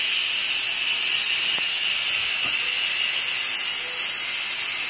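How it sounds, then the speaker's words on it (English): Steam hisses out of an opened cooker in a loud, continuous, broadband hiss that holds steady throughout, with no talking and only a couple of faint clicks underneath. "this is the scary part where you open up and see the steam"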